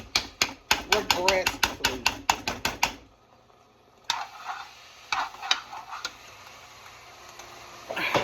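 Ground meat for homemade nachos being stirred in a hot pan, a fast run of clattering scrapes and taps over the first three seconds, then a low sizzle with scattered utensil knocks after a short pause.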